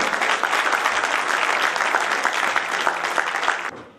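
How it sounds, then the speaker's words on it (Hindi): A large audience bursts into loud, dense applause to welcome Dr Pawan Pareek at an awards ceremony, holding steady before fading out quickly at the end. "जोरदार तालियों के साथ में स्वागत डॉक्टर पवन जी पारिक।"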